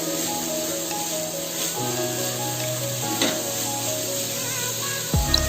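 Beans, carrot and capsicum stir-fry in a hot pan with a steady, close sizzle throughout, ending in a brief scrape or clatter of the spatula near the end.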